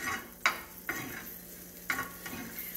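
Flour cooks in bacon grease in a pan for sausage gravy, a quiet continuous sizzle with a few sharp scrapes and stirs of a utensil, close and without talk.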